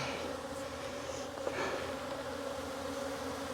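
A low, steady drone of honey bees buzzing in a hive lid hums throughout, faint but continuous, with no voices.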